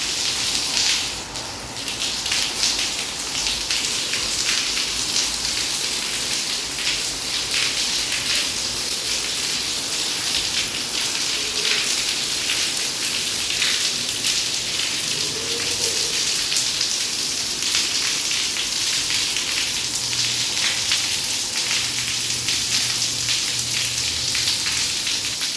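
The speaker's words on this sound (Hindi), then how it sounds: "उसके बाद फिर से शुरू हो गई है बारिश।" Heavy rain pours steadily at night during a storm, a dense continuous hiss of drops drumming on surfaces, with no talk.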